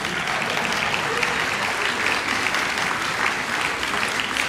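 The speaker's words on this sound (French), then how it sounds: "Vous avez applaudi." A theater audience at a music comedy show claps steadily and densely for several seconds, the applause full and close with no pauses.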